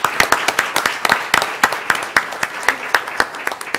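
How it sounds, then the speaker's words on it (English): An audience at a school board meeting gives a round of applause, with distinct, sharp claps in a loose, moderately loud rhythm over a few seconds. "So that deserves a round of applause"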